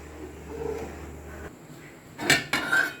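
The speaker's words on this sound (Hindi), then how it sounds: "अच्छी तरह हिलाते जाएं ताकि जो है चावल इकट्ठे ना हो जाएं" A spoon scrapes and knocks against a metal pot while rice is stirred for Pakistani zarda, with a soft low rumble giving way to a few bright clanks near the end.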